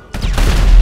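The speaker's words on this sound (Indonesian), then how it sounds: "Oh, meledak semua, boy." Explosions erupt in a modded GTA V game as a superhero power wrecks everything nearby; a sudden loud blast kicks in after a short quiet and swells into a heavy, rumbling roar with low booms building underneath.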